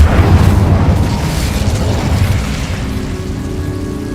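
An Incendio fire spell cast in the video game Hogwarts Legacy, a loud roaring burst of flame with crackling texture that gradually fades, heard alone without voices.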